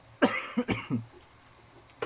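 Several sharp coughs from one person, close to the mic, in quick bursts with brief pauses before a final small cough, during a power bank battery soldering repair.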